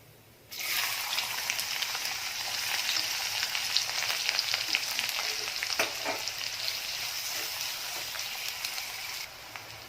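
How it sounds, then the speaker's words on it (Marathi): Finely chopped onions with cumin sautéing in hot oil, a dense, even hiss of frying like steady rain that starts abruptly and carries on close and continuous, with faint stirring clicks. "कांदा छान परतून घ्यायचा आहे तेलामध्ये"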